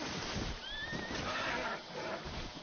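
Horse whinnies in the Red Dead Online video game, a brief rising neigh heard in the middle over a steady noisy background of game ambience.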